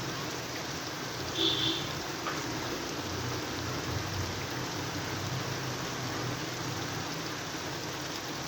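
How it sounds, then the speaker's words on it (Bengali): Steady rain falling all day over a low-lying spot where water pools, heard as a continuous even wash of hiss close by, with no voices. "এই যে দেখেন কি পরিমাণে বৃষ্টি হচ্ছে"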